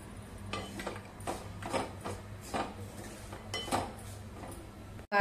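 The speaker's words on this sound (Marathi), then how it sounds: "आता खोबऱ्यासोबत काजू पण भाजूया." Dry coconut and cashews roast in a pan, heard as quiet scraping and light clinking of a spatula against the metal in irregular strokes, close and faint.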